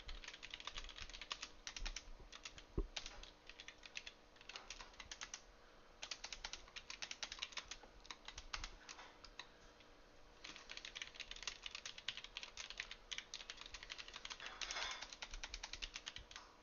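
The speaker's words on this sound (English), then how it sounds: "I'm typing up an order." Someone types an order on a computer keyboard during an online strategy game session, with fast, uneven clicking keystrokes running continuously and fairly quietly throughout, with no speech.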